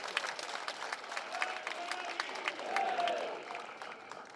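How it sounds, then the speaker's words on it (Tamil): Soft, scattered audience applause ripples through a crowd at some distance, fairly faint, with individual claps standing out and a brief swell near the middle. "கைத்தட்டு கொடுங்க, இல்லாட்டி விட்டுருங்க"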